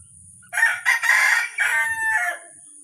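Backyard rooster crowing once, a loud close cock-a-doodle-doo in several strained bursts, alone without talk.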